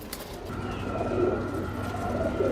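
Pigeons kept for sale coo in a steady, overlapping chorus, close and fairly loud throughout, with no talk.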